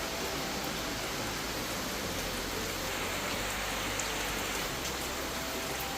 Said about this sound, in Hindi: देखिए जी धीरे धीरे बारिश की रफ्तार बढ़ने लग गई है